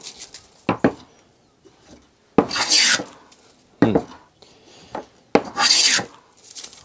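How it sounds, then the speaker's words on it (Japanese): A Western-style hand plane shaves wood in long rasping strokes, several passes in close succession with short pauses between, close and fairly loud. "でもこうやって削れるようになります"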